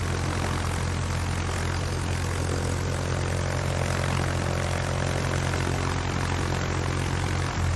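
Carrier aircraft in World of Warships, a steady loud propeller-engine drone that holds without pause throughout, with no voices over it.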